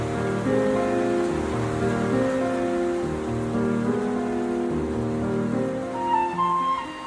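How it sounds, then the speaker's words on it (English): Fresh rain pattering onto a hiking tent on the Cape Wrath Trail in Scotland, a dense, steady close hiss of drops on fabric with a soft underlying drone and no one speaking. "the rain that's just started"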